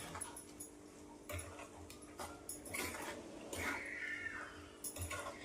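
Spoon scraping and clinking against a metal pot while boneless chicken pickle with rock salt and spices is mixed, giving irregular close clatters and taps over a faint steady hum.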